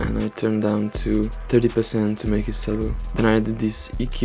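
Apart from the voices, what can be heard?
No everyday noise stands out behind the speech.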